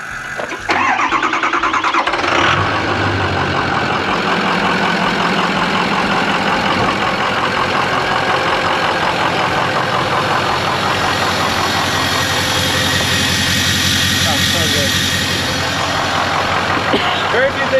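A 6.0 diesel Ford pickup engine cranks and catches, then settles into a loud, steady idle with a rough, clattering rumble, running up close throughout.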